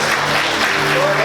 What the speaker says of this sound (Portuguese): Quantos conseguem aplaudir Jesus?